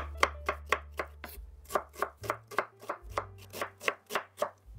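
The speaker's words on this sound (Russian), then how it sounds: "Также средними кусочками режу лук." Steady, evenly spaced knife chops strike a cutting board up close, about a dozen crisp thuds in a regular rhythm, cutting onion into medium pieces.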